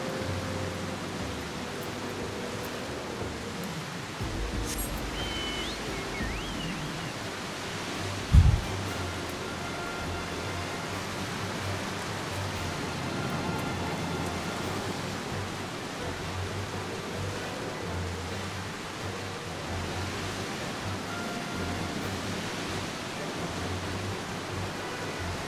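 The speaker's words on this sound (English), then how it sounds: "And it's raining here too." Steady rain in the video game Final Fantasy XIV, a constant even hiss of falling water throughout with a brief thump midway and faint game ambience underneath.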